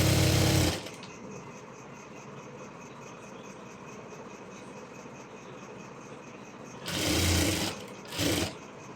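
A sewing machine runs steadily, stitching the full round of a maxi dress hem, with short louder bursts near the start and end, close by and with no talk.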